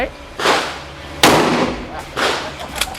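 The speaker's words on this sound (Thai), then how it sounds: "อันนี้ก็คือทดสอบการยิงใช่ไหมฮะ" A gun is test fired at a shooting session, giving three loud sharp shots about a second apart, each followed by a short decaying ring.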